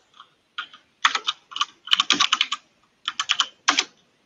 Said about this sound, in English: I'll get dampeners for my mechanical keys